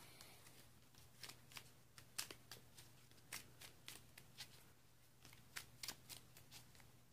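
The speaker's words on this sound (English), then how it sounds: "And shuffle." A deck of Pokémon trading cards being shuffled by hand at a quiet table, giving a soft, steady run of crisp riffling snaps and flicks over a faint low hum, with no talking.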